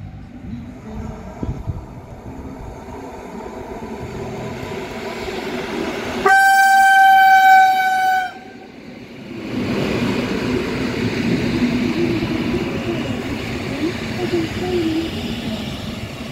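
The horn of an EN57 electric train sounds loudly for about two seconds over rumbling rail noise as it arrives at a station, with the rolling rumble of the train continuing afterward.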